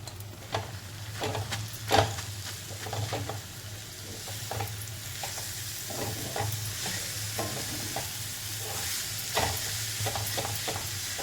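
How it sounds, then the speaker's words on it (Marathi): Coriander leaves sautéed in hot oil for crispy kothimbir vadi, with a steady sizzle and frequent scraping, clattering strokes of a spatula against the pan, close up and free of speech. "तेलात परतून घ्यायचं आपल्याला"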